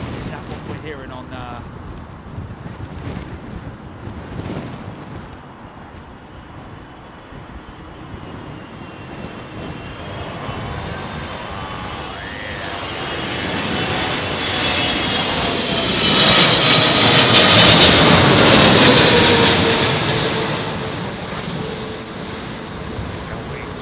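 A jet airliner lands at Heathrow in 30-knot high winds, its loud engine roar and whine swelling over the final seconds amid wind noise, while voices talk over it.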